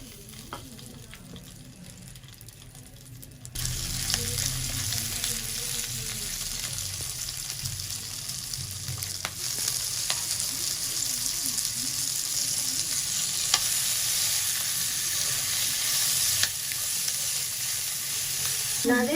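Green chillies hitting a spoonful of hot oil in a pan for Peshawari chapli kabab, a loud steady sizzle that bursts in after a quiet start and crackles on unbroken, with occasional stirring and no talking.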